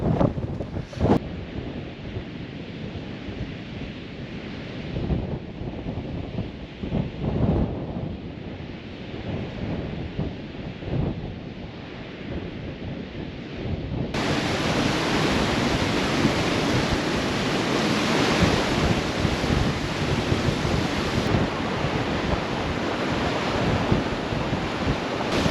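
Strong coastal wind buffets the microphone, a continuous loud rushing roar with gusty swells that thickens and grows harsher partway through, with no voices.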